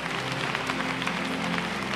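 A church congregation at a night prayer service applauds in a continuous even wash of clapping, fairly loud and sustained, with a low hum and faint tonal sounds underneath.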